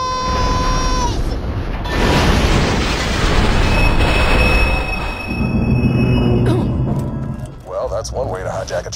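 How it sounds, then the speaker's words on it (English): Train in the video game Borderlands 2, a loud, sustained rumbling roar with a heavy booming explosion, high metallic squeal tones through the first half, and clatter and a voice toward the end. "One way to hijack a train."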